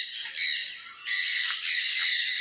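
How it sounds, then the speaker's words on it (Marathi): Black crowned cranes and peacocks in a shared enclosure at Bannerghatta Biological Park in Bangalore let out loud, harsh, drawn-out squawking calls. Two long bursts come close together, with a brief dip between them. "क्रेन म्हणजे बगळा ते दोन बगळे पाहताय तुम्ही मोरासोबतच आहेत"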